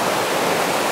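Fast-flowing river swollen high with water, a steady broadband rush that fills the whole second without pause, close and loud with no voices.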